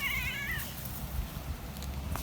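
Cats meow repeatedly, one wavering cry up front followed by softer mews, over a steady background hum.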